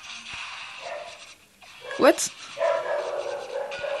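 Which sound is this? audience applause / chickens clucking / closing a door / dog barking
dog barking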